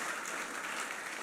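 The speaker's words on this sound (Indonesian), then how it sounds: "Beri tepuk tangan yang lebih lagi." Church congregation applauding during a worship service, a faint, dense and even patter of many hands heard at a distance, briefly and with no voices over it.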